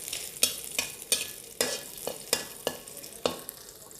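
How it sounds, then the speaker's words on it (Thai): Chopped garlic stir-frying in a little oil in a pan, with repeated sharp scrapes of a spatula in an uneven rhythm over a soft, steady sizzle, close and with no talking. "ใส่กระเทียมสับ ลง ไปนะครับ"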